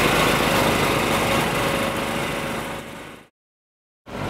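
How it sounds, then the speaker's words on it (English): A small engine drives the agitation pump on a SealMaster SprayMaster seal coating trailer, a steady high buzzing drone that fades away, then cuts out to silence before starting up again at the end. "And I'm gonna start my agitation pump."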